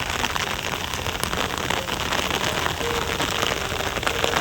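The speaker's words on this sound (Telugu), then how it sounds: "వాన చూడండి ఫ్రెండ్స్ ఎట్ట పడుతుంది వాన దుమ్ము లేపుతుంది" Heavy rain falls steadily outdoors at a fishing spot in Nellore, producing a dense, unbroken hiss of drops striking the ground, close and loud with nothing else over it.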